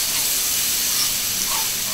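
Onions and garlic sautéing in olive oil for a curry with mustard seed and chili, giving a steady, even sizzle and hiss that runs throughout, fairly loud and close, with no talking.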